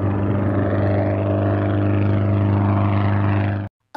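A propeller plane drones in the I Spy Spooky Mansion video game, a steady loud engine hum with a low buzzing tone that holds evenly, then cuts off abruptly near the end.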